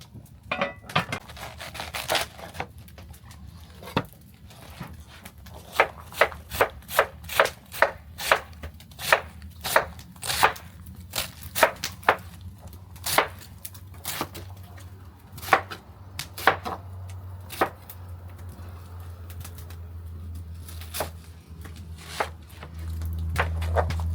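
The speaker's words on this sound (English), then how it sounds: "Then we're going to come in, get our cabbage cut up." A knife chops cabbage on a board at an outdoor Cajun open-fire cooking setup, with close, sharp strokes coming in irregular bursts and quick runs over a low background rumble.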